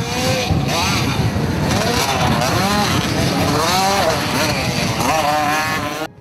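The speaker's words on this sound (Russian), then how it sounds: "Прыжки на мотоцикле, повороты, виражи." Motocross motorcycles race on a dirt track with jumps and tight turns at a crowded competition, engines whining and rising and falling in pitch continuously, close and loud, mixed with a voice talking.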